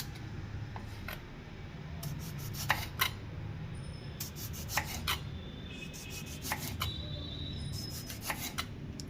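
Knife cutting through large tomatoes for bhajiya, a series of short crisp slicing and tapping strokes on a board, irregularly spaced and fairly close, over a faint background hiss.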